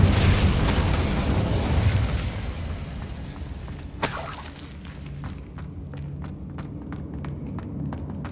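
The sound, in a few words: Incendio fire spell in Hogwarts Legacy video game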